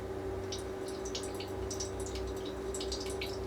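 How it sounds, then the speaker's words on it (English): Whey from homemade Greek yogurt drips through a strainer in a kitchen, faint scattered droplets falling irregularly over a low steady hum. "Some of the yogurt has already dripped out"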